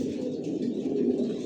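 Racer pigeons of one original line, Johnson long-distance stock, coo softly together in a loft, a steady low murmur of overlapping calls with no voices.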